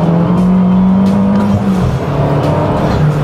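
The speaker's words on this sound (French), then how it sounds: "elle accélère très très bien" An Abarth Stage 3 with automatic gearbox accelerates hard, its engine holding a loud, close droning tone that rises and shifts over a few seconds with a constant, dense roar and no voices.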